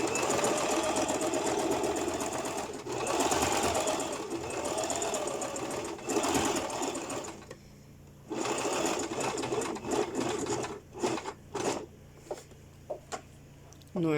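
A sewing machine stitches a pleated knife skirt seam in long continuous runs, loud and close, then settles into shorter bursts with pauses as the fabric is adjusted.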